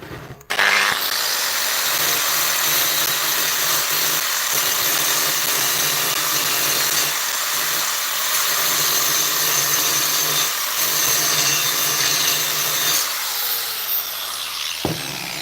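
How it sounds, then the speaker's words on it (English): Grinder grinding down welds on a custom e-bike hub at a workbench, a steady loud high-pitched whine and rasp running almost the whole time after a sharp start, with a few brief dips in pressure. "So the reason I'm grinding the welds here is because I want this to sit flat on the"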